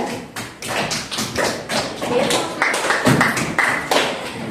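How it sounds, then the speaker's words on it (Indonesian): Classroom clapping for a student group after its presentation at an elementary school, a loose scatter of sharp claps from a small group of children, fairly close and steady, with voices mixed in. "Tepuk tangan untuk kelompok 2."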